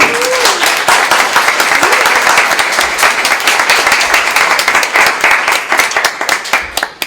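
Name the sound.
audience applause for Silvia Westermann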